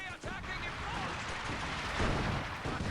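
Land Mattress rocket barrage in Company of Heroes 2, a dense, loud rumble of overlapping blasts and explosions that roars steadily throughout with no letup.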